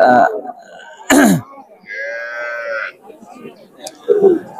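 A cow lets out a single drawn-out low moo at a cattle market in Mymensingh, Bangladesh, with nearby voices and short grunting sounds before and after it.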